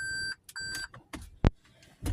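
A 2018 Toyota Prius's reverse warning sounds repeated electronic beeps in short pulses, a steady high tone sounding twice with pauses, amid some faint knocks and rustling.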